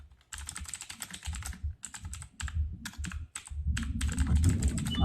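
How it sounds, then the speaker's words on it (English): Rapid typing on a computer keyboard, a steady stream of clicking keystrokes with brief pauses, growing slightly busier toward the end, with no voices. "Bro's really typing this shit up."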